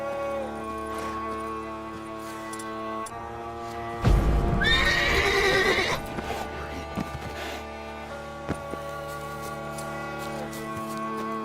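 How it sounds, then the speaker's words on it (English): A horse in The Witcher 3 whinnying loudly in one long, close neigh over steady game music and ambience, followed by faint hoof clip-clops. "Run, Roach."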